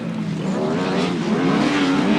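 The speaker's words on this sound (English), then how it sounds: "Revs rise, tapes fly, and here they come, down the straight" Grasstrack racing motorcycles at a championship meeting roar down the straight, a loud continuous engine drone with rising revs and no voices over it.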